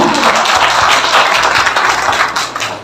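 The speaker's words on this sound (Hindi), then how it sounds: "तो जोरदार तालियां और एक बार।" Loud, dense audience applause fills the hall during a sanitary napkin product demonstration, steady clapping from a crowd with a low hum underneath, fading slightly at the end.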